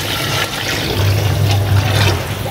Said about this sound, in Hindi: अब यहाँ पर मैं इसके अंदर पानी ऐड कर दूँगा,